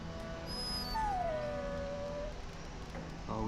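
A warhound dog in the video game Dragon Age Origins gives a drawn-out, high whimpering whine that slides downward and fades, heard alone and fairly close over a steady game background hum.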